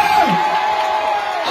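An audience at a political welcome speech cheers and whoops loudly, a continuous roar of voices throughout the short burst.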